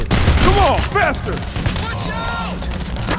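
Booming grenade-launcher shots from an M79 during a bank heist in Payday The Heist ring out loudly amid dense game noise, with a voice talking and chirpy synthetic effects in the mix.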